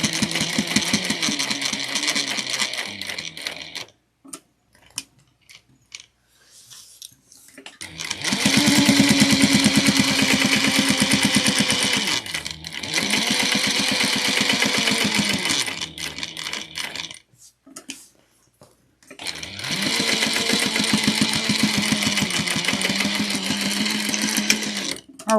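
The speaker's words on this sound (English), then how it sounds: "we're gonna machine base this down at 1/8 of an inch all the way around." Sewing machine stitching a Nettie clutch wallet, running a seam 1/8 inch from the edge with backstitching, in three long steady whirring bursts separated by short pauses, close and fairly loud with no talking.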